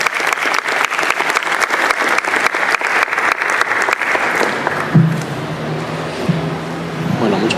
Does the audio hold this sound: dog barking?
no